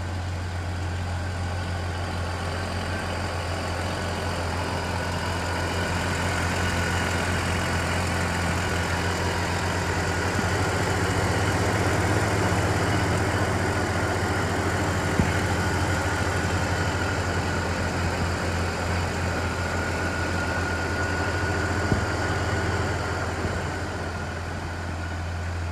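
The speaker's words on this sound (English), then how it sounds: "I'm gonna walk up to this engine and let you see in here just how this thing runs." A 1998 Jeep Grand Cherokee Laredo with the 4.0 gas engine runs at a steady idle, heard up close as an even, continuous low rumble with a few faint clicks.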